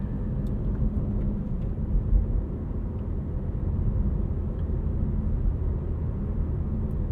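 A 2025 BMW M4 CS with its S58 engine and 8-speed automatic cruising gently, a steady low rumble and road drone filling the cabin without revving or talk.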